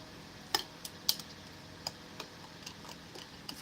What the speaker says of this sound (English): I'm scraping the side of my drinking jar to get some of it that stuck to the side